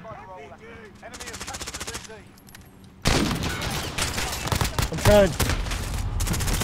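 Gunship support fires in Modern Warfare, sustained rapid automatic bursts and heavy impacts that start abruptly and roll on loud and dense, following quieter game sounds, with a person speaking briefly during the barrage.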